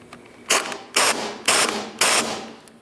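Impact wrench tightening bolts on the power steering pump of a 1999-2003 Toyota Solara, four short loud bursts of rapid rattling hammering about half a second apart, close up in a quiet garage.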